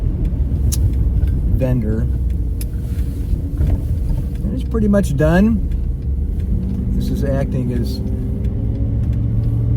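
A 1971 Mercedes 280SE 3.5 Cabriolet on a road test gives a low engine hum and road rumble with a few brief revs, heard under someone talking throughout.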